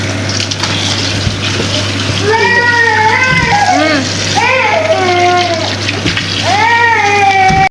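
Food being washed under a running kitchen tap, with steady water splashing throughout while a cat meows several times nearby and a person speaks over it.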